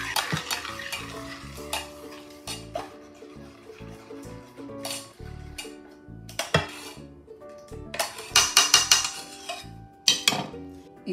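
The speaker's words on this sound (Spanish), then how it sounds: "Lo voy a revolver muy bien." A melted cheese, milk and cream sauce for pasta with broccoli, stirred vigorously in a pot, with repeated close scraping and clinking of a utensil against the metal over a soft bubbling sizzle.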